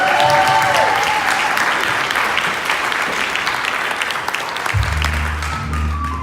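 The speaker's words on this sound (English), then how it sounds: "Give me another round of applause." Audience at a comedy night applauding steadily and loudly throughout, a dense wash of clapping with some crowd noise, with a low hum or tone entering near the end.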